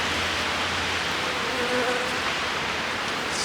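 Bees buzz inside an opened hive during an inspection, a soft continuous hum that stays faint and steady under the background noise.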